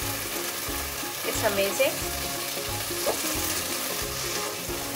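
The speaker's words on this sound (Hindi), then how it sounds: "इसे हमें अच्छे से भुनना है, जितना आप मैक्सिमम भुन सकते हैं।" Masala for chicken dhaniya adraki frying in a little oil, a steady close sizzle with stirring scrapes and small bursts, while a voice speaks briefly over it.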